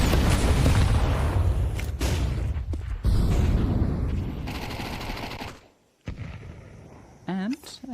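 Counter-Strike 2 gunfire from an AK, a MAC-10 and pistols, loud and dense bursts of shots that crowd most of the clip with a few sharp hits, then falling quiet near the end, mixed under a caster's voice.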